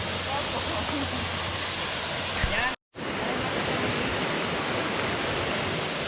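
A waterfall on Maui roars, a dense loud broadband rush like ocean surf that fills the scene continuously, broken by one brief cut to silence before resuming.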